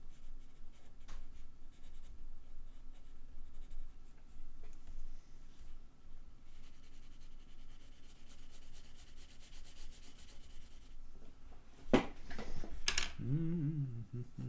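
Graphite pencil scratching and rubbing across textured paper in a steady, soft, continuous drawing sound, with a few louder strokes near the end.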